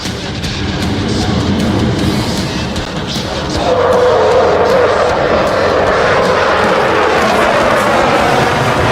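A simulated F-15 Eagle jet from DCS World roars past at an air show, a steady broad engine rush that swells louder partway through and holds, with no talk.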